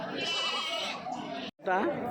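Goats bleat at Kadiri's weekly Tuesday livestock market, with a steady crowd murmur and a sharp, wavering bleat rising close by near the end.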